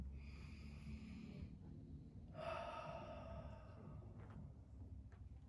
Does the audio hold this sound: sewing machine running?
no